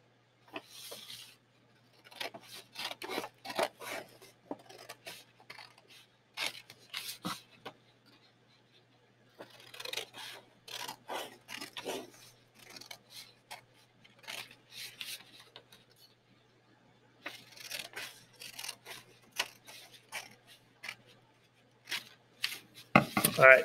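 Paper sheets are cut into strips for a loom: repeated bursts of scissor snips and paper rustling, close and quiet, in several runs separated by pauses.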